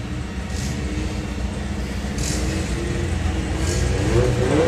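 Four-cylinder drag racing cars in qualifying drone steadily with a mid-pitched engine tone that builds slightly in intensity, heard continuously from a moderate distance.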